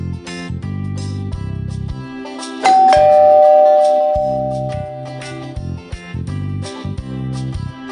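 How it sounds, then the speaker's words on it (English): A bright doorbell chime from the video game Arthur's Puppet Theater rings once and lingers over bouncy, upbeat game music that pauses briefly around it. "The doorbell rang"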